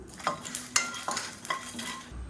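A spoon stirring red chillies and peanuts as they dry-roast in a pan for a kulambu spice mix, with scraping strokes over a soft sizzle, close and steady, no talking.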